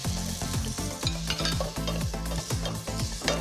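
Onions and cumin fry in a pot for a sour fish soup, a loud continuous sizzle with rhythmic scraping strokes of a spoon stirring close by; no voices.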